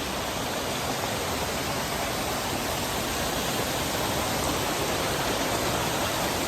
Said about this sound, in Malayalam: നമ്മൾ വെള്ളച്ചാട്ടത്തിന്റെ അടുത്തെത്തി